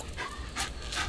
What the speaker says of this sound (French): c'est le chien d'ici, c'est le chien de ma famille